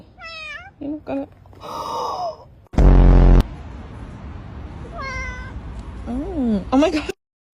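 A small kitten meows repeatedly in short, high, wavering cries, close and loud, with a brief burst of loud noise midway and voices talking around the meows.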